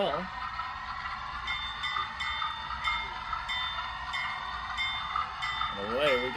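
A model train bell rings steadily in a regular series of strikes, close and fairly loud, above a continuous tone.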